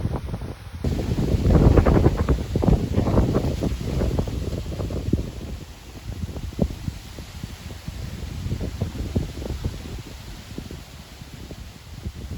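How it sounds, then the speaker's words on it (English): Wind gusting across an outdoor microphone where a Remkick Speedwing model is tested, a steady broadband roar with buffeting rumble, strongest early then easing slightly but persistent throughout. "you can see we've had some wind here"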